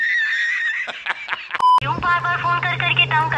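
A mobile phone rings from repeated calls, a bright warbling electronic ringtone with a steady low hum beneath it, entering after a brief pause and sounding loud and close; earlier a voice talks briefly.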